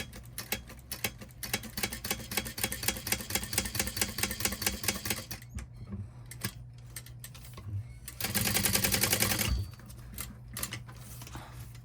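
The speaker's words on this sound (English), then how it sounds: "I'm going to top stitch all the way around" A sewing machine top stitching all the way around a fabric pack piece runs in a steady rapid needle chatter for about five seconds, pauses with a few handling sounds, then a faster, louder burst of stitching before stopping.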